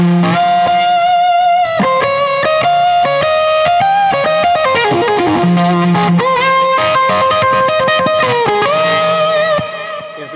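Distorted electric guitar drenched in effects, with the flanger switched off in the signal path: chorus-like shimmer and reverb, sustained chords and bends ringing loudly throughout without any voice.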